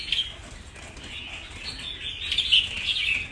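A wild-caught bulbul songbird calls in a bright, continuous stream of chirps and twittering, fairly close and rising in intensity toward the end, with no talk over it.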